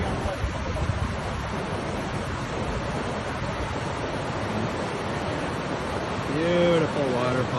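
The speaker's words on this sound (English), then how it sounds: "Beautiful waterfall." Steady broadband rushing of a waterfall near Oba fills the scene, a dense continuous roar with some wind buffeting, and a voice briefly cuts in near the end.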